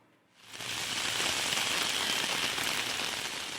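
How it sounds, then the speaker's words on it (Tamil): Heavy rain pours steadily at the hill resort of Yercaud in Salem, a dense, even hiss that swells in after a brief quiet start and holds loud and close throughout. "சேலத்தில் உள்ள ஏற்காடு சுற்றுலா தலத்தில் 2 மணி நேரத்திற்கும் மேலாக கனமழை பெய்தது."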